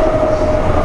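A passenger train moving along a line in Germany gives a brief, steady rumble with a thin whine running through it, close and loud.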